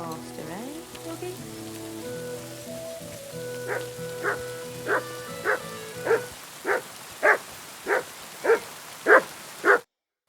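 In the medieval game Kingdom Come Deliverance II, a dog gives around ten evenly spaced barks that grow louder and more distinct over a backdrop of sustained musical tones, which fade out partway through.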